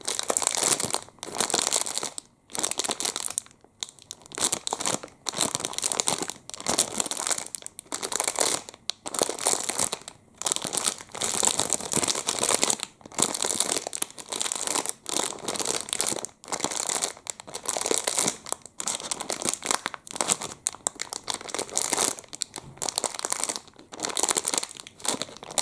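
Close, crisp crinkling and crunching of a chocolate muffin and its wrapper, continuous irregular rustles with brief pauses, intimate and soft like an ASMR trigger.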